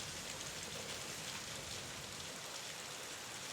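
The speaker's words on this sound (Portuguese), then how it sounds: "Se você está gostando dessa atmosfera sombria ao som da chuva" Steady rain falls as a constant, dense hiss with no breaks, even and moderately quiet throughout, with no voices.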